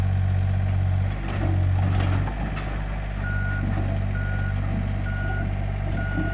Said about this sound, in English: Sometimes you can just back the truck up